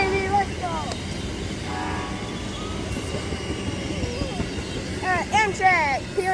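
Amtrak P098 passenger train rolls past on track at Folkston, Georgia, its rumble steady throughout, with a faint horn blast early and then loud, close horn blasts near the end, while a voice speaks over it.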